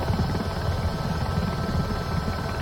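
A helicopter in Microsoft Flight Simulator 2024 flies along with a constant, dense rotor and turbine drone, loud and unbroken, with no voices over it.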